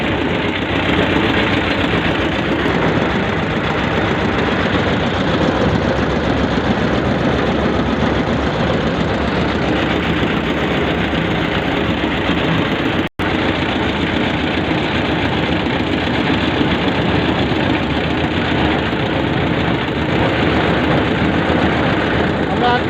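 A river boat's engine runs steadily and loudly at close range throughout, a dense droning rumble with a brief dropout near the middle.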